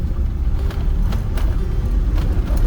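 A Land Rover Defender on the road from Marrakesh to Spain, its engine a steady, close, low rumble as the driver shifts gear, with no talking.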